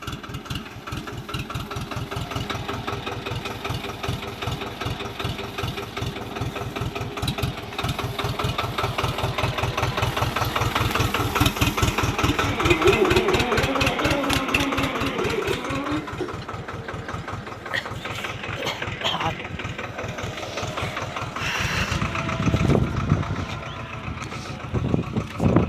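A motorcycle engine idles steadily up close with an even, rapid putter that swells slightly midway, as a few people talk nearby.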